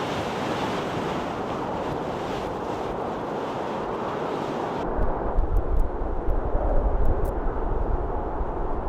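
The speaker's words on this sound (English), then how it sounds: "those are like some pretty angry waves" Big, rough ocean waves near an Icelandic fjord after stormy days, a loud continuous roar of surf mixed with wind buffeting the microphone, growing heavier partway through.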